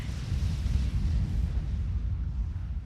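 Tactical missiles from a missile launcher explode in a Forged Alliance Forever match, a steady, loud low rumble of blasts merging into a continuous roar with no distinct individual booms and no talking.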